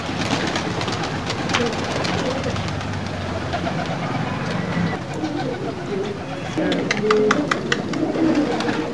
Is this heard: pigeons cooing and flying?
yes